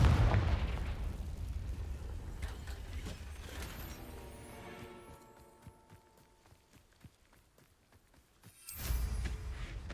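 A Confringo spell explosion in the Hogwarts Legacy video game, a loud burst at the start fading into rumbling debris and mechanical clatter, then another sharp blast near the end.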